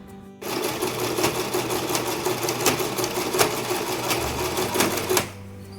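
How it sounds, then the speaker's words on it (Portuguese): Sewing machine stitching a seam between embroidery and ribbon on a baby blanket, a loud close rapid mechanical whir with a ticking needle rhythm that starts abruptly and stops after about five seconds. "eu vou passar uma costura bem aqui, ó, entre esse bordado e entre a fita"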